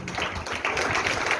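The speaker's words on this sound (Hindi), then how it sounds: "सभी लोग तालियां बजाएंगे।" An audience at a school assembly claps their hands for a birthday, a short dense patter of applause that swells slightly partway through, with no voices.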